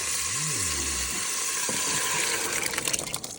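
Mung beans (munggo) being stir fried in a pan, a steady sizzling hiss with soft scraping and clinks toward the end, close and moderately loud.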